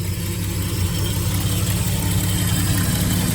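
A car engine idles steadily at close range with a low, even rumble, its exhaust rerouted to the rear so it sounds noticeably quieter up front; no talking is heard.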